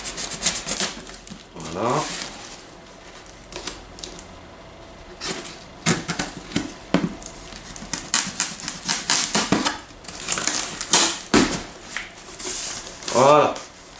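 A delivered parcel being opened by hand, with bursts of scraping, rubbing and tearing at cardboard and tape between pauses, close up, while someone talks briefly.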